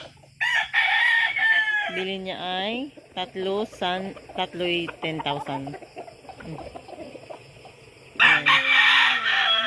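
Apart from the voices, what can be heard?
rooster crowing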